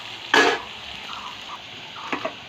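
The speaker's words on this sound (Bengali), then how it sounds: "এখন নাড়াও, এই যে এইভাবে এইভাবে এইভাবে এইভাবে নাড়াও।" A utensil stirs channa fish curry seasoned with turmeric and salt in a pan, giving one short scraping sizzle followed by softer clicks and a couple of quick scrapes near the end, close up and unaccompanied.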